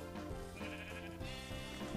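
Sheep in a video game, likely Minecraft-style, giving wavering, nasal bleats in quick succession, moderately loud, with no speech.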